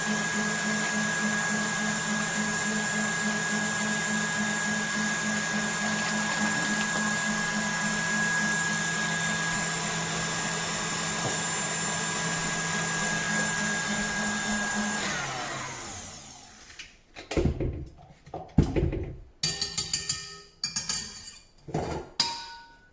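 An electric mixer whipping egg whites with sugar, a loud steady whirring drone that runs for about fifteen seconds and then stops, followed by clinks and knocks of a bowl and utensils.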